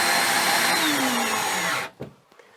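A power drill drives screws to mount a Leviton circuit breaker load center onto a wall, a loud steady whirring run that cuts off abruptly, followed by a brief clunk and quiet.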